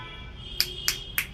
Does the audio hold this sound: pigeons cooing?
no